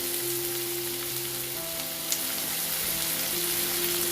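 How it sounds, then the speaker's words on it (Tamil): Onion, carrot and other vegetables fry lightly in a pan for paneer schezwan noodles, giving a steady, even sizzle with a faint hum running beneath it and no talking. "அதையும் லைட்டாக ஃப்ரை பண்ணிக்கலாம்"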